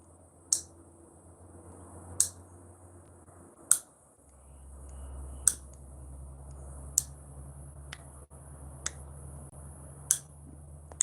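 Fingernails being clipped with a clipper, a series of sharp, isolated clicks spaced a second or two apart, close and fairly faint over a low steady hum, with no talking.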